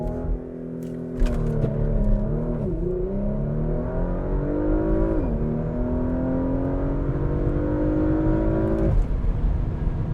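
Porsche Macan Turbo launching hard under launch control, its engine roaring loud and close with rising pitch through gear changes, steady and continuous with no talk.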